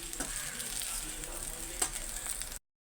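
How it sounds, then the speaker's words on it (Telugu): Egg fried rice being stirred in a pan, a soft continuous sizzle and frying crackle with faint scraping, quiet and close, with no speech. "ఓకే ఫ్రెండ్స్ ఇవి ఇలా యాడ్ చేసుకున్న తర్వాత రైస్ని ఇలా కలుపుకోవాలండి"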